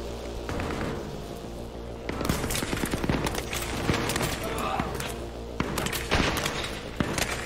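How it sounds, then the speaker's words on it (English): Rapid gunfire in the video game Battlefield 3 during a co-op mission on Xbox, bursts of automatic shots and booms crackling loudly over continuous game noise from start to finish. "Straight away fire and get the guy that runs at you."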